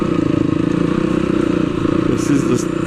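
A Yamaha TTR 250 dirt bike ridden on a trail at Kahuku, Hawaii, its engine droning steadily at mid distance throughout, with voices talking over it.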